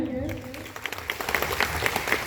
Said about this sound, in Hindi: सबको ताली बजाइए।